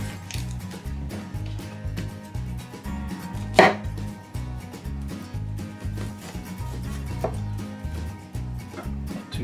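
A kitchen knife chops through an onion on a cutting board with steady, rhythmic knocks close up, one sharper louder strike partway through, no voices present.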